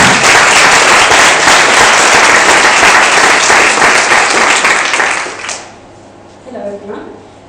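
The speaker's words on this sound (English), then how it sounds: "she deserves a big applause for what she had done for peace revolution" Loud, close applause from an audience at the opening session of a peace-themed conference fills the first five seconds, then fades out quickly as a voice begins speaking.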